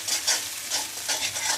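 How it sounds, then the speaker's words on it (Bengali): Onions frying in oil in a pan until light brown for a rohu fish curry with bitter gourd and potato: a steady close sizzle with repeated rhythmic spatula stirring and scraping, loud and alone. "হালকা ব্রাউন কালার হওয়া পর্যন্ত ভাজবো পেঁয়াজগুলো।"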